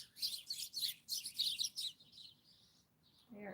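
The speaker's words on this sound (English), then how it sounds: "something's going on in bird world." Agitated birds chirping outdoors, a rapid burst of sharp, high tweets in quick clusters that thin into a trailing call, fairly faint and distant, with a short lower sound at the end.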